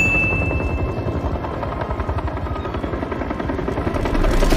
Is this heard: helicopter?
yes